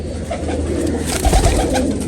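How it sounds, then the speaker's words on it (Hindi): A 222 breed racing pigeon coos close by, a loud, continuous low throaty burbling in a pigeon loft. "ये 222 कबूतर है।"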